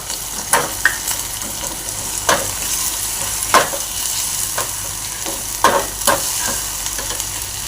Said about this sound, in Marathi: अर्धा चमचा हळद घालून घेते आणि सगळं चांगलं असं भाजून घेणार आहे